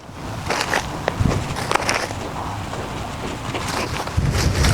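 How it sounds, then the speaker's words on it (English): Gusty outdoor wind blows around a garden where neglected flowers are being tended, roaring and buffeting the microphone close up, with occasional thumps and rustles from movement nearby. "Gosh, this wind though."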